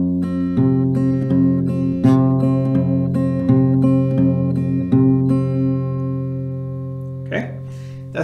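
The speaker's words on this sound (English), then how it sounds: "You're gonna play this one for 4 rounds." Acoustic guitar fingerpicking pattern from a song, played slowly over a chord grip: evenly spaced plucked notes repeating in rounds over ringing low strings, close and clear, with a brief rustle at the end.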